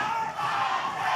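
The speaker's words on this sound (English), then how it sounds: "The crowd rallying behind Luscious Lawrence." A wrestling arena crowd cheers and chants for Luscious Lawrence at an OVW event, a loud, sustained roar of many voices with a slight dip partway through.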